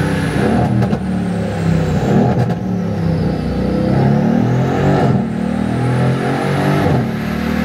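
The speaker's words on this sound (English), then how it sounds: "the 177 engine just sounds fantastic" Mercedes-AMG C63 with the M177 engine revving in a sustained, loud pull, a steady throaty roar with shifting pitch as it accelerates, heard close with no talking.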